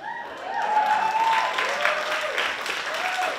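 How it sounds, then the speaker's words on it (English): An audience claps in a moderate, continuous patter at a creativity talk, with a voice briefly rising and falling over the applause. "That's the most applause consecutively ever that I've ever received"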